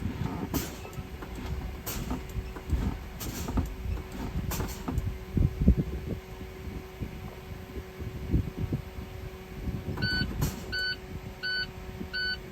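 Low air pressure warning buzzer in a truck cab as the brakes are fanned during an air brake test, a steady electronic tone under hissing air releases and creaks, with a series of short beeps near the end.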